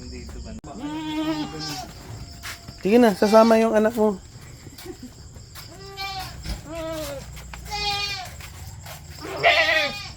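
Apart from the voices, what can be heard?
Anglo-Nubian goats bleating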